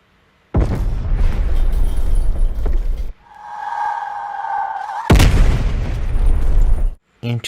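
Grenade launcher rounds exploding on the Zoo map in Black Ops Cold War, two loud deep booming blasts with long rumbling tails, separated by a whistling tonal sound as the shot flies.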